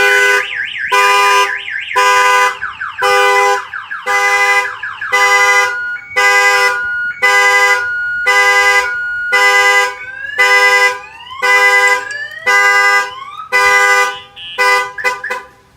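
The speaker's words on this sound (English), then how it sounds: "Any door that they open, it fires off the alarm." An aftermarket car alarm blares right up close, looping through loud rhythmic horn-like blasts and rising and falling electronic siren tones in regular bursts, with short gaps between them.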